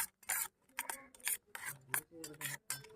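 Egg yolk mixed with onion and chili in a bowl, heard as rapid rhythmic scraping and clinking of a utensil against the dish, close and fairly quiet, with no talking.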